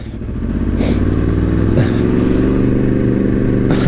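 A motorcycle engine drones steadily and loudly up close, with a constant rumbling throb and occasional rattling clatters as it rides along.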